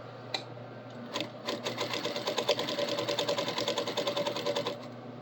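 A sewing machine stitching a scrunchie seam, running slowly with a fast, even rhythmic chatter of the needle close by, starting after a short pause and continuing steadily to the end.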